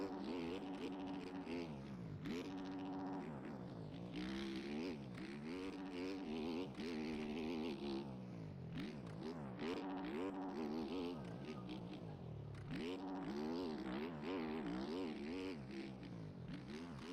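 In the MXGP video game, a motocross bike engine revs hard in second gear, its pitch rising and falling again and again over a steady loud drone, with a brief dip partway through and no voices.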